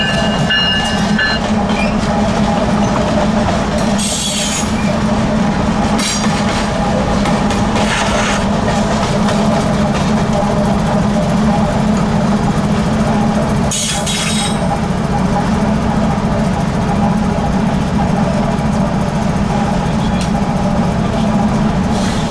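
Loud, close freight train, locomotive 4869 easing into the Monroe yard, rolling slowly with a deep engine drone, rattling cars and occasional metallic squeals and clanks.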